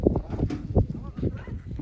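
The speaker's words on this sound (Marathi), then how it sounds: "इथं बैल पलवत आहेत," Bulls being unloaded and led at a bullock-cart racing rehearsal, their hooves thudding and clopping irregularly on the ground amid shuffling and background voices.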